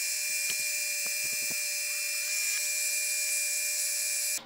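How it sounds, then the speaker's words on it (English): A small high-pitched drill whines steadily as it bores a little hole through the side of a case in a workshop, with a few faint clicks and taps near the start before it cuts off abruptly. "I've gone ahead and drilled a little hole in the side of the case."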